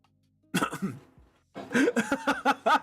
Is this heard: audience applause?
no